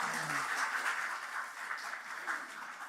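A church congregation at a Korean men's mission dedication service applauds steadily, a dense, even wash of clapping that welcomes the guest pastor.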